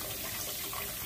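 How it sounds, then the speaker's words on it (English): Tap water runs steadily into a basin being filled to soak potted orchids, a continuous close splashing rush with no talk over it. "let's fill it with water"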